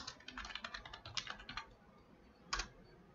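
Fingers typing quickly on a computer keyboard to enter a search in Canva, a quiet close run of clicking keystrokes followed by a brief pause and a final key press.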